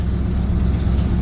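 A 1977 Corvette engine at a normal warm idle gives a steady, loud, low rumble that holds even throughout, with no talking over it.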